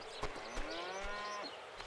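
A cow moos in the farming game Farmer's Life. The long, wavering low call rises and falls over a couple of seconds, with a few soft thumps and clatters around it.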